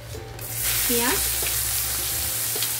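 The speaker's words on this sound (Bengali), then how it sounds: "পেঁয়াজটা ব্রাউন করে ভেজে নিতে হবে" Cumin seeds and sliced onion fry in hot oil in a pan as the base for a rohu fish curry. A loud, close, continuous sizzle runs throughout, with a brief voice-like tone rising above it near the middle.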